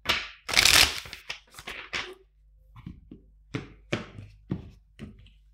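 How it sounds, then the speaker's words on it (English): Tarot cards being shuffled by hand, a burst of riffling followed by a series of soft separate taps and card slaps, close and fairly quiet, without talk. "Two more shuffles."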